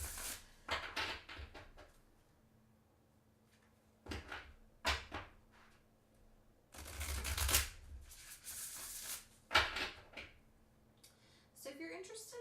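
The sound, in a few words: shuffling tarot cards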